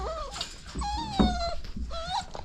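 A dog whimpers and whines in rising, wavering tones beside a pen of puppies, several close, plaintive cries over about two seconds with a soft yip among them.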